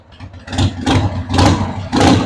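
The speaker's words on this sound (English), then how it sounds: "this carburetor, see if it'll idle." A 2000 Harley-Davidson Sportster engine with a freshly worked carburetor, loud and close, surging through several quick throttle blips between lumpy idling, about three rises in just over two seconds.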